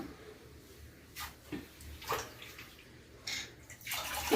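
Water is poured into a pot of wild gourds for washing, heard as a few faint, short splashing pours with quiet gaps between them.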